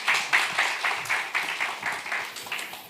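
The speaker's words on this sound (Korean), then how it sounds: "박수로 환영하겠습니다." A church gathering's audience applauds to welcome a pastor to the front, giving a moderate burst of mixed handclaps with a loose, pulsing rhythm that continues steadily throughout.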